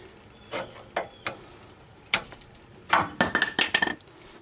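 Brake pads pried off a 1999 Crown Victoria make sparse metallic clicks and taps, then a quick cluster of scraping clanks, close by and fairly quiet.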